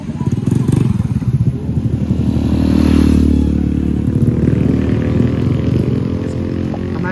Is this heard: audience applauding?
no